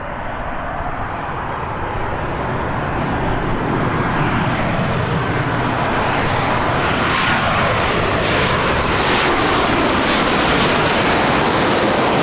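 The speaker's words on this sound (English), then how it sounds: "Turkish Airlines 737, which isn't a common visitor." Turkish Airlines Boeing 737 jet at Birmingham Airport, a loud sustained engine roar that swells and broadens over the whole stretch with a rising whine.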